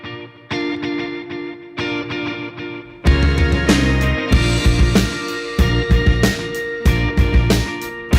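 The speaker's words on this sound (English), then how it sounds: "set up one echo on a quarter note and the other echo on a dotted eighth note" Electric guitar played through two delay lines, one on quarter notes and one on dotted eighths, on a Keeley Dark Side tape echo, with sparse notes opening into a dense, layered wash of rhythmic echoes that fills the space, no talking.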